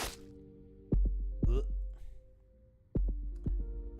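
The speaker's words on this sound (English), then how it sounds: "A heartbeat sound and not an explosion sound." Heartbeat sound effect in the Arknights video game, deep low thumps arriving in pairs twice over, with a quiet tonal hum and faint chirps in between.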